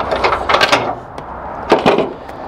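Metal pins pulled and a storage tray slid out on a 2014 Keystone Cougar RV trailer, a few close rattling clunks and a scraping slide, loud and alone.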